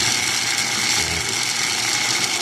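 A washing machine motor runs forward under a switch timer, giving a steady, loud mechanical whir with a faint rattle that holds evenly throughout with no voices.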